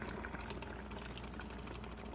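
Water poured into ground beef chili with drained kidney beans in an Instant Pot, a steady close liquid splash and fill lasting a couple of seconds with no talking.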